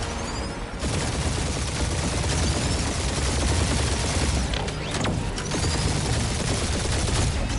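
A continuous gunfire barrage in the PS5 game Guardians of the Galaxy, with dense rapid shots and mechanical clatter roaring almost without pause, loud and close, with no talking.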